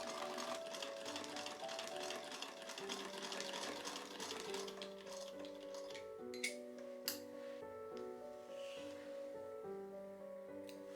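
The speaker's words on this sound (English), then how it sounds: "finally, we can sew up the sides" A sewing machine stitches up the sides of a red fabric circle skirt, its needle running in a steady, close mechanical whir with a few light clinks partway through, quiet and alone with no talk.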